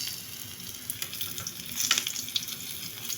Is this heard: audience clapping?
no